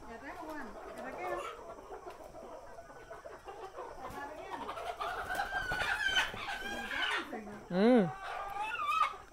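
Chickens cluck and squawk agitatedly as they are caught by hand for vaccination at a rural home, close and continuous, with people talking over them.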